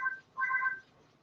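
A house phone rings indoors: two short electronic trill bursts, the second longer, clear and moderately near, with no talking over them.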